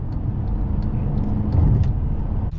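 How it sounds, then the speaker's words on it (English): Inside a high-mileage 2012 Honda Pilot EXL on the road, a steady low cabin rumble of wind through the windows and air conditioning holds throughout, with faint scattered ticks and no talking. "It does have a little bit of noise, like wind noise coming through the windows as well"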